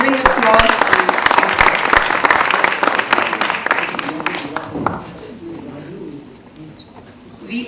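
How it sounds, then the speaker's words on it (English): An indoor audience at a book release event claps for several seconds, loud dense applause that thins out and fades to quiet room tone. "A thundering applause."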